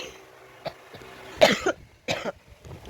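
A person coughs several times in short, close, rough bursts, one strong cluster in the middle and lighter ones before and after, with quiet room noise between.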